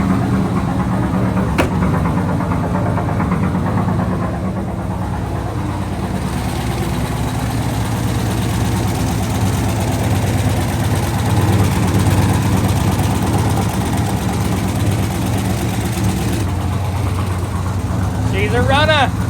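An OBS truck swapped to a turbo 6.0 engine idles on its first startup, a loud, steady, low rumble that runs throughout, close by, with a short squeal near the end.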